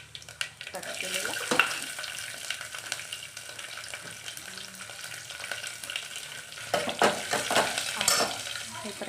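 Cut garlic fries in a pan, giving a moderate sizzle with scraping stirs and a few clinks of utensils against the pan, and brief louder bursts near the end.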